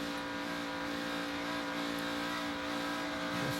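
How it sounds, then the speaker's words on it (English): A NASCAR Nationwide Series race car at Fontana runs with its engine droning steadily as the driver feeds the throttle, a continuous loud roar with no talking. "You can hear he was feeding the throttle there."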